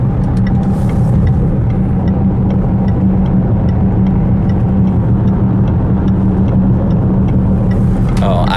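A car driving along a road to the surf, its engine running with a steady low drone and road rumble throughout, loud and close from inside the cabin.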